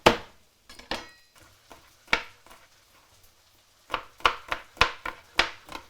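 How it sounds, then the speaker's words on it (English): A knife chops garlic on a cutting board in short irregular strokes: a few scattered chops, a pause, then a quicker run of crisp, close knocks, with no talking. "we can get started on our garlic, which is something else that we have to chop"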